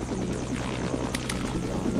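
A helicopter in the Roblox game Vancouver Fire Department, heard as a steady dense rotor and engine drone, close and constant, with two brief higher clicks partway through.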